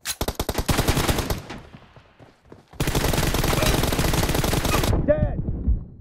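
Rapid automatic gunfire in a video game team deathmatch shooter, two loud sustained bursts of machine-gun fire separated by a short pause, ending with a ringing metallic tail.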